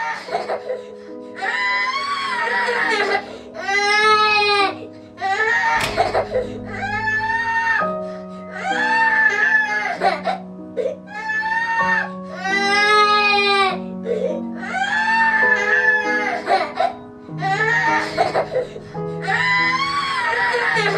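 A baby in a video game wails in repeated loud, drawn-out cries with short breaths between, over a faint electronic background tone.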